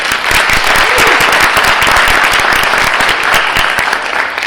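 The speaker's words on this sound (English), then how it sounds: "Let's give them a round of applause." Steady, dense audience applause at a high school branch ceremony and ribbon cutting, loud and continuous clapping from a crowd lasting several seconds without speech.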